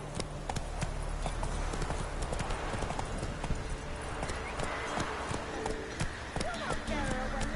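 Geralt's horse Roach gallops in The Witcher 3: Wild Hunt, a fast, continuous clip-clop of hooves up close, with game ambience and a few muffled vocal sounds near the end.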